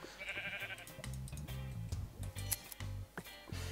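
Minecraft sheep bleating repeatedly in short, loud, wavering cries, several calls in close succession with brief gaps between them, heard alone without talk.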